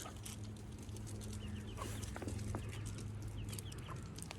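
Young chickens, a few weeks past the small yellow chick stage, make soft scattered clucks and peeps at close range in a farmyard during afternoon chores, quiet and without talk.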